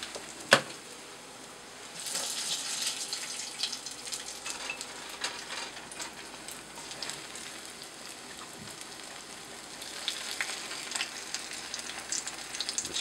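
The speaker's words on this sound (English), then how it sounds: "Fry it up." Homemade alkaline patties frying in a pan, a continuous soft sizzle with scattered crackles and a few sharp knocks, no voice heard.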